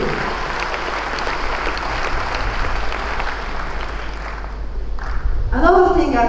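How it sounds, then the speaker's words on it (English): An audience claps at a speaking event, a steady wash of applause that thins near the end before a voice begins speaking. "He really deserves a round of applause"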